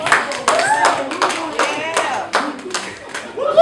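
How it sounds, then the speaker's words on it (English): Crowd at a rap battle claps and cheers loudly in a dense, continuous burst, with voices shouting and whooping among the hand claps. "Make some noise for Slug, y'all."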